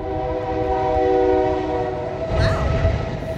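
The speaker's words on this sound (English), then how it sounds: "the train horns sound like clockwork" A train horn blares in a long, loud, sustained chord in Miami, with rumbling rail noise underneath toward the end.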